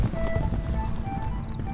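Galloping horses in the Stronghold Legends video game give a quick, close rhythm of hoof clip-clops over a short stretch, with a faint whinny-like tone.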